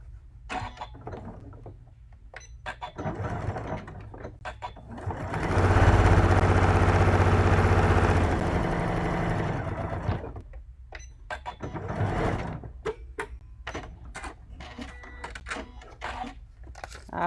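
A sewing machine runs a steady stitching pass along a marked line on a quilted table topper, a loud continuous mechanical whir for a few seconds, surrounded by shorter bursts of handling and clicks.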